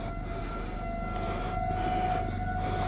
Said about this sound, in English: So sirens must be up on 55th Street, huh?